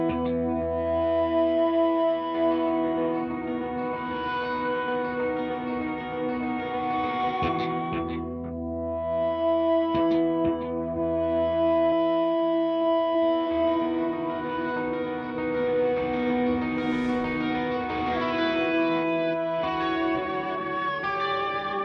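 Electric guitar run through a HeadRush pedalboard with BBD delay and smart harmonizer, sustained harmonized chords and single notes ringing with echoing repeats and a wavering chorus-like shimmer, played alone with short gaps between phrases.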